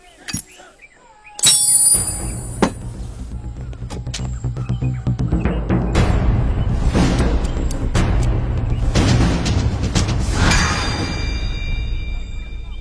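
A hand grenade blast strikes a tank in a film scene, with a sharp metallic clang followed by a heavy booming roar that sustains and rumbles for several seconds, then further clanging impacts.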